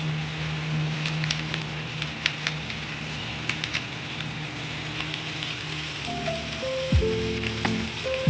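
Rain falls steadily around an outdoor cooking spot, a close, even patter and hiss with a few sharper drops, and a faint tonal hum near the end.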